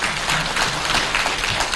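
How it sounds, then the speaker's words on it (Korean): Short burst of dense, steady audience clapping welcoming a guest professor on stage at a gum health talk concert, filling the room evenly with no voices on top. "다시 한번 박수로 맞이해 주십시오"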